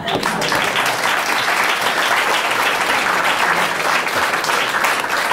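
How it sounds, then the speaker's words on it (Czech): Loud, dense audience applause fills a Czech talk-show studio as Slovak culture minister Milan Kňažko is introduced, continuous clapping that stays strong and even throughout. "A já vás nechám ještě jednou zatleskat"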